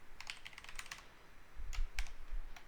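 Code being typed on a computer keyboard in Visual Studio Code, a nearby run of quick clicky keystrokes, then a pause and a few scattered heavier taps over light low rumble.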